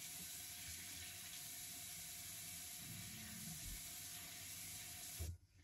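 Lukewarm water running steadily from a tap while a face is washed, a continuous soft hiss with faint splashing, cut off abruptly at the end.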